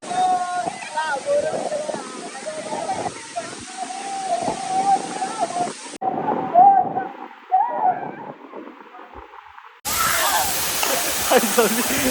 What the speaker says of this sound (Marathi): मी वॉटरफॉल ला येते